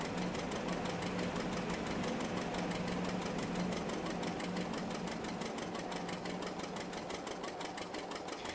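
A Hercules tractor engine keeps running at idle in a farming video game, a continuous rhythmic chugging with a low steady hum, loud and alone throughout.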